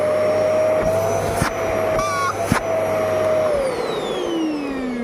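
An old vacuum cleaner runs steadily with a loud motor whine and hiss, its pitch dipping briefly and falling toward the end, with a couple of soft knocks.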